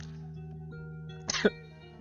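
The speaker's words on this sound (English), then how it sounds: "Why am I coughing?" A single short cough breaks a quiet room with a steady low hum in the background.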